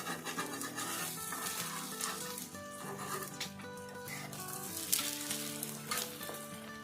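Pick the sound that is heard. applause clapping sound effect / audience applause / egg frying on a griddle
egg frying on a griddle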